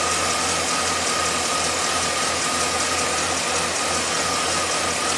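A worn 2009 Chevy 3500HD engine with over 400,000 miles idles roughly and lopes, a steady close rumble with an uneven, pulsing beat throughout.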